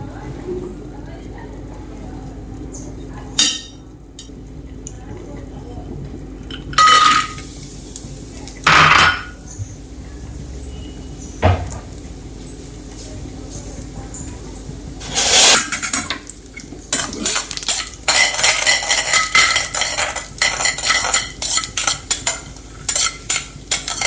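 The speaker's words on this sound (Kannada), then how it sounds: "ಇದನ್ನು ಲೋ ಫ್ಲೇಮಲ್ಲಿ ನಾವು ಗೋಲ್ಡನ್ ಬ್ರೌನ್ ಆಗೋ ಮಟ್ಟ ಫ್ರೈ ಮಾಡ್ಕೋಬೇಕು." Cashews frying in hot oil over a low flame for dhaba-style kaju masala, with a soft sizzle under sharp clinks of a utensil against the pan and stirring, in a home kitchen where someone talks.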